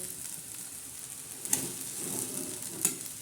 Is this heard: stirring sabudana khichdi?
yes